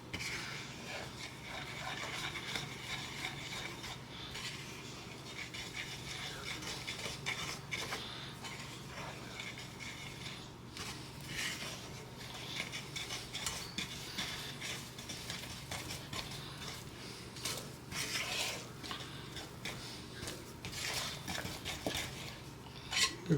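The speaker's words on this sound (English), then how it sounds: "We just mix that around in our bowl." A utensil stirs brownie batter with orange olive oil in a bowl, giving continuous scraping and clinking of metal against the bowl with irregular knocks, close and moderately quiet throughout.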